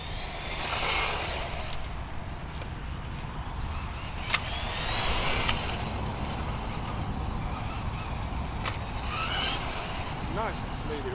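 A Tamiya TT02 radio-controlled Toyota Celica GT-Four runs outdoors with a steady electric motor whine and tyre noise, rising and falling as it speeds up and turns, heard at moderate distance.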